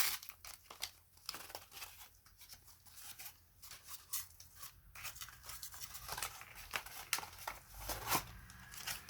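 Scissors snip through tape on a Barbie doll's packaging box, giving close, papery crinkling and short cutting sounds in a steady, quiet run with no talking.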